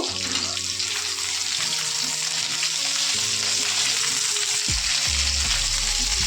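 Pointed gourd (potol) frying with salt in a pan makes a steady, close sizzle throughout, with low rumbling clatter from the pan and stirring.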